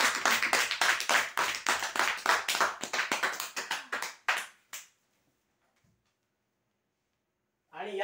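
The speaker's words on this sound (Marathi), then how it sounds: "जोरदार टाळ्या वाजवा यांच्यासाठी." Loud, rapid applause from a crowd at a prize lucky draw, a dense burst of clapping lasting several seconds before stopping abruptly into near silence.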